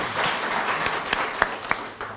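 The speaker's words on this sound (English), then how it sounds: "please give him a round of applause" Applause rises from the audience at a university graduation ceremony for a professor, a steady crowd of clapping with a few sharper individual claps standing out before it tapers off.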